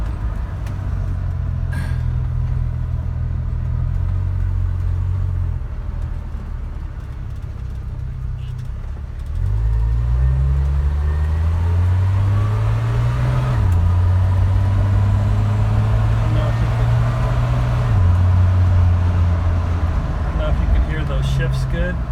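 A 1978 Dodge D100 pickup truck's engine runs steadily with a low, smooth hum that shifts pitch a couple of times as it changes speed, heard up close as a continuous drone.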